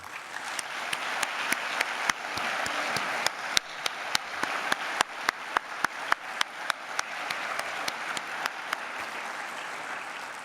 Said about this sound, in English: I really would like you to join me in a round of applause